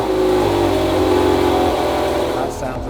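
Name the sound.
2008 supercar engine revving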